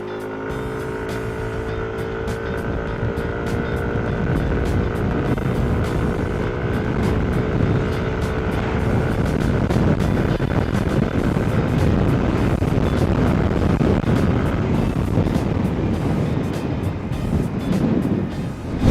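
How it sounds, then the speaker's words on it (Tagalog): A Yamaha NMAX 155 scooter accelerates hard from a standstill to higher speed, its engine note rising and then holding a loud, steady drone under heavy wind rush for about nineteen seconds. "So makikita natin na pag-accelerate natin, talagang hindi tayo mabibitin kahit sa mga pataas, kahit sa mga overtaking, subok naman na talaga ang makina nitong NMAX 155"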